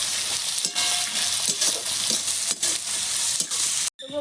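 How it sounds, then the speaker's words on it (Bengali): Chopped onion, ginger, garlic and green chilli fry in a pan with a close, loud sizzle. The spatula stirs and scrapes at regular intervals, and the sound breaks off briefly at the end. "ভালো করে ভাজা ভাজা করে নেব পেঁয়াজ"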